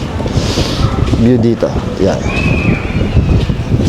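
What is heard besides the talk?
wind blowing in through the window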